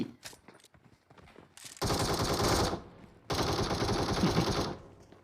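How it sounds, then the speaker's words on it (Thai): Two loud bursts of rapid gunfire in PUBG Mobile, the first after some quieter rustling, the second following a short pause. "โอ้โห เสียงปืนแล้ว"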